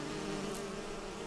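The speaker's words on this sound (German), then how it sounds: "Boah, das brummt hier ja. Diese ganzen Bienen." A swarm of bees drones in the Enderal video game, a continuous, even buzzing that fills the whole moment with no voices over it.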